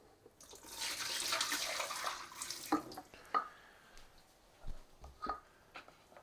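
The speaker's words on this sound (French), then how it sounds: "Je sors une partie de l'eau." Water poured out of a bowl during mozzarella making: a steady, close splashing pour for about two and a half seconds, then fading into a few scattered drips and light knocks.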